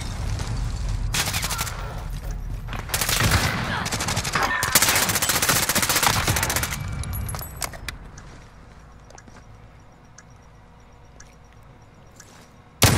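Heavy gunfire in a Call of Duty Modern Warfare Search and Destroy match, dense volleys of loud shots for several seconds that fade into quieter scattered noise, then a sudden sharp burst at the very end.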